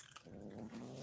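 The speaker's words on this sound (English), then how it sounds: "Who is that growling?" Low, rumbling growl from a cat at a cat cafe, soft and close with a steady throaty tone and a brief higher sound at the start.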